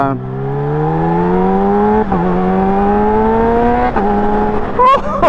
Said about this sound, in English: it sounds like a completely different bike. It is mind-blowing how different this thing sounds. So crisp, so clean.